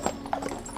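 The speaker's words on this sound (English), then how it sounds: "what a fabulous dray and what beautiful horses" Hooves of draught horses pulling a dray clip-clop in a quick uneven run of several hard knocks, close and clear over a brief stretch.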